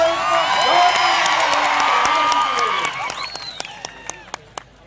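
A large crowd at a tribal youth gathering in Akkalkuwa cheers and whoops loudly for a performer, with shouts sweeping up and down. The cheering fades into scattered sharp claps and a few lingering calls.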